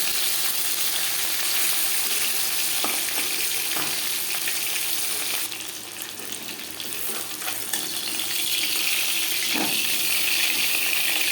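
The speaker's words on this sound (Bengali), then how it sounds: "যেহেতু ইলিশ মাছ হালকা করে ভেজে নেব" Hilsa fish pieces frying in hot oil in a pan for an eggplant hilsa curry give a loud, continuous close-up sizzle and crackle, easing slightly midway before building again, with no voices.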